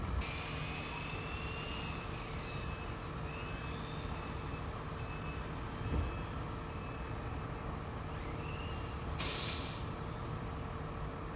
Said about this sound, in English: Oh, there's another truck coming.